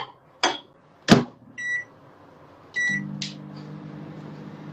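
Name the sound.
microwave oven running to melt chocolate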